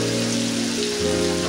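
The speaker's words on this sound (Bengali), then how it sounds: "দেখো আমি ভালো করে মশলা ভেজে নেব।" Spices frying in oil in a pan, a dense continuous crackling sizzle that sounds like steady rain, with a low hum underneath, close and loud throughout a brief stretch.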